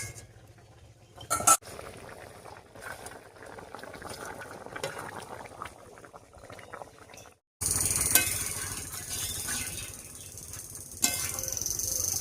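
Kochu lati (taro stolon) curry with fried koi fish simmers at a rolling boil in a pot, giving a steady bubbling with a few utensil clinks, interrupted by a short silence partway through before the bubbling returns louder.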